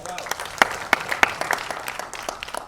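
Scattered applause at a debut album launch, sparse individual claps spread across a small audience, moderately close, with voices faintly mixed in underneath.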